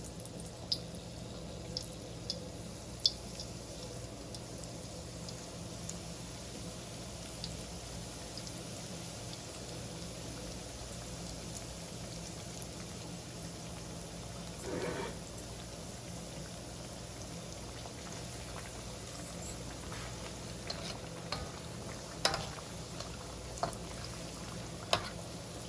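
Keema samosas frying in moderately hot oil give a steady, soft bubbling hiss with faint crackles scattered through, continuous and fairly quiet, with no talking.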